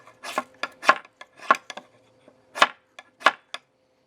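A Kizlyar Supreme D2 Survivalist X hollow-handled survival knife has its spine scraped hard against a fire striker, wearing through the coating to throw sparks. About a dozen short, close, gritty rasping strokes come in uneven bursts with brief pauses between.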